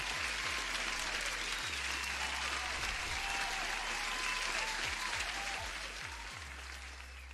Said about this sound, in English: Here's an applause for you guys.